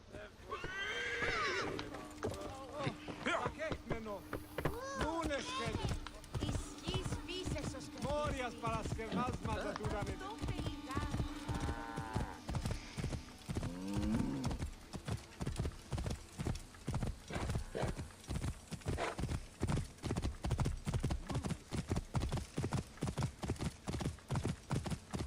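A horse gallops across open ground in Assassin's Creed Origins, rapid rhythmic hoofbeats drumming steadily for the whole stretch, with loud whinnies and neighs rising over the first half.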